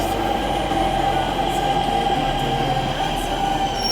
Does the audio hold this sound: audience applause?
no